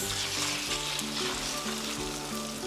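Whisking a mixture with salt and red pepper gives a brief, steady scratchy whir close by, with soft music underneath.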